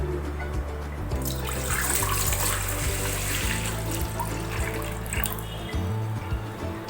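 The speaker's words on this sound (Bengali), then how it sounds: "জলটা আমি এতে দিয়ে দেবো" Water pours into a rice cooker pot holding rice, a continuous splashing gush that stays steady and close for several seconds.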